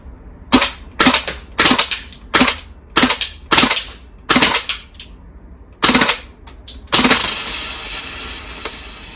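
VFC gas blowback MP5 airsoft gun in cold weather, firing eight sharp, loud, closely recorded bursts at roughly regular intervals, the last shots trailing into a longer hissing tail.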